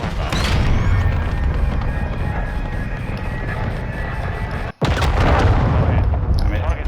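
Cruise missile strike in the Call of Duty MW2 beta: a loud continuous roaring rumble of flight and impact, cut by a brief silence and then another heavy crashing blast, with voices over it.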